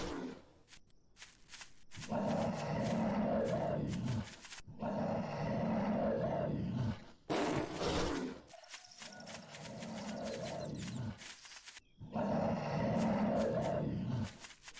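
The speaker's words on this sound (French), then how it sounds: "l'ours poussera toujours un grognement avant de nous attaquer" A bear in the Night of the Dead video game growls several times, loud rough roars in separate bursts broken by short pauses.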